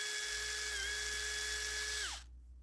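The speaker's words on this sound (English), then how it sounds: "we can drill that pinhole now" A small drill whines steadily while boring a pinhole through a knife handle at the bolster, a high sustained tone that dips slightly midway and winds down abruptly near the end.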